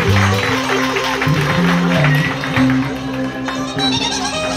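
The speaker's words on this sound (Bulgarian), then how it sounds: "Аплодисменти за Сали!" Wedding guests at Sali and Melisa's 2017 wedding give a round of applause for the groom, the clapping a rough, moderate wash partly masked by loud, rhythmic wedding music.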